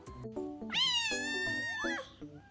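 A kitten gives one long, loud, rising-then-falling meow lasting over a second, close to the listener, with shorter background sounds before and after.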